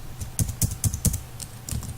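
Fingers tap out Java code on a computer keyboard, a quick run of crisp, close keystrokes in short irregular bursts with brief pauses between them.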